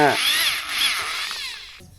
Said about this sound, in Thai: ต่อไปนี้จะเป็นการเจาะรู